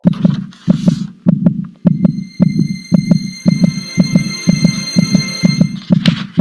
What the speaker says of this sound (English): down here is the sound of like the heart beating